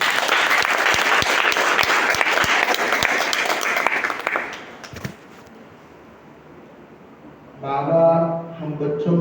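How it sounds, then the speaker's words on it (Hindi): Loud, dense applause from an audience at a Diwali spiritual class rings out for about four and a half seconds. It cuts off into quiet, and then a voice begins speaking. "अपने भाग्य की जोरदार तालियां बजाएं।"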